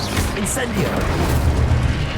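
Incendio fire spell cast in Hogwarts Legacy, a loud dense booming whoosh of flame sustained through the moment, with a voice over it.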